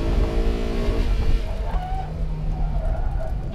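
A Honda S2000 drifts hard toward a mountain-pass hairpin, its engine note loud and close while tyres skid and squeal across the pavement.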